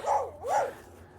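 Two quick, gruff barks from a dog outdoors where a tree is being milled into boards, close and moderately loud, followed by a short quiet tail.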